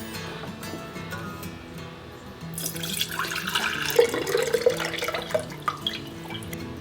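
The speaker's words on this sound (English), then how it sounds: "going to use my canning funnel and put the brine into another mason jar" Brine poured through a canning funnel into a mason jar, a steady splashing trickle that builds up close by and runs for several seconds with a few drips near the end.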